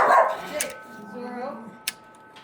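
Dogs at a home, one giving a short yip and whimpering bark over a quiet background, with a sharp bark-like burst near the end, fairly close.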